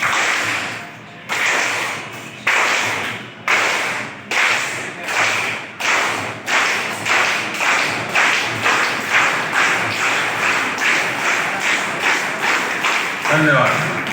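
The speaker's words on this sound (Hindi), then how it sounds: "तो ऐसी ताली बजाना है।" At a four-day training closing ceremony, a group claps in unison: slow, evenly spaced sharp claps at first, then a quicker steady rhythm of crisp claps, loud and close with no talking.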